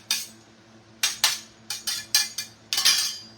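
Knife scraping chopped onion across a cutting board, about eight short, sharp scrapes in an irregular rhythm, close and fairly loud, with a faint steady hum behind.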